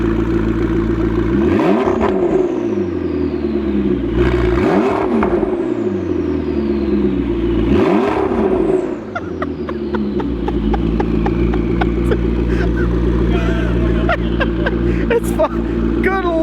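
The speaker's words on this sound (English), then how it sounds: "Give me a little rev quick." A McLaren with a loud aftermarket exhaust is revved three times in quick succession from a whining idle, each blip a sharp rising roar that falls away, close and very loud, followed by a steady idle with faint crackles.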